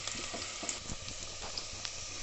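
Onions fry in a pan over a medium gas flame with a soft, steady sizzle and a few faint pops and bubbling crackles, quiet and close.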